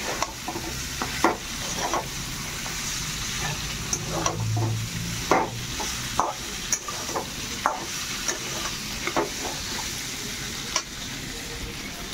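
Paneer, pointed gourd and potatoes fry with spices in a pan, sizzling steadily up close while a spatula scrapes and taps in regular strokes throughout.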